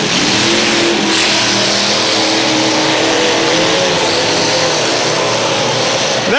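Race car driving hard on a track, a loud, close engine roar that holds a sustained high note with slight pitch shifts, steady and unbroken for several seconds.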